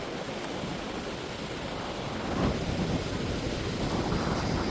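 Ocean surf washes up and pushes sand along a beach at Cherry Grove, a steady broadband roar mixed with wind buffeting the microphone and swelling slightly midway, with no voices.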